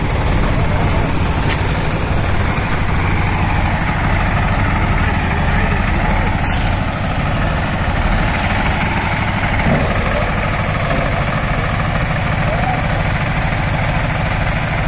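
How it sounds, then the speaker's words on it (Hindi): A Sonalika 745 4x4 tractor fitted with a heavy-duty front loader and large bucket idles with a steady, low diesel rumble, close and loud throughout. "सोनालिका 745 4x4 ट्रैक्टर में फ्रंट लोडर"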